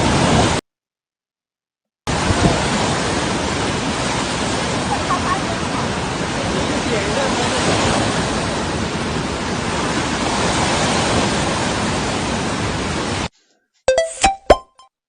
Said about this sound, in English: We have some video footage of what it looks like when you release all 9 gates.